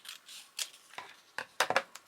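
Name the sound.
cutting up journal pages with scissors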